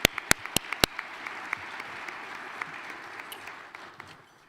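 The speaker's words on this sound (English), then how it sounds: "Let's give them a round of applause for this amazing." Applause at a high school football award event, opening with a few loud, sharp nearby claps before settling into steady crowd clapping that fades out toward the end.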